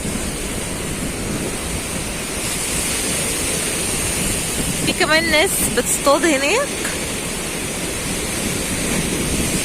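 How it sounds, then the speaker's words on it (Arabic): High winter sea waves crashing on the Alexandria shore near the breakwater blocks, a loud, continuous surf roar with wind noise and someone talking over it partway through. "رغم ارتفاع الامواج ورغم الهواء الساقع اللي موجود في بحر اسكندرية"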